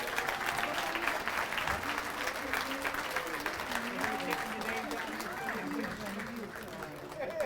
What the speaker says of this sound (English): A big round of applause for all these folks